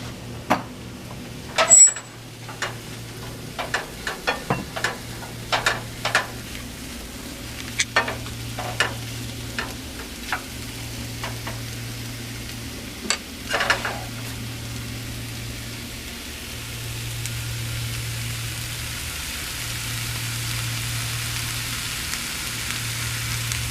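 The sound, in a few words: sautéing mushrooms and shallots in a pan for risotto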